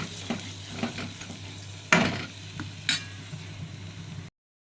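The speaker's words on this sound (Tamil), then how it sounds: "இப்போ இதோடு நம்ம கட் பண்ணி வச்சுருக்க இந்த வெங்காயத்தை போட்டு நல்லா வதக்கிப்போம்" Chopped onions sauté in ghee with a soft, steady sizzle and a few sharp clacks of a spoon stirring against the pan, close up, before the sound cuts off.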